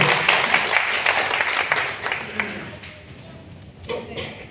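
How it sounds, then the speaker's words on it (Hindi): An audience applauds at a World No Tobacco Day celebration event, a dense burst of many hands clapping that fades out after about three seconds, followed by quieter murmurs. "एक बार तालियां बजाती हूँ।"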